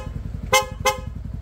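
Two short, bright honks from an aftermarket Corsa horn on a Yamaha Sniper 150 motorcycle sound in quick succession over a steady idling engine rumble.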